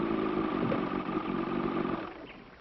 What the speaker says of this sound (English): should the driver leave the cockpit area for any reason, this little safety device provides that the engine will be killed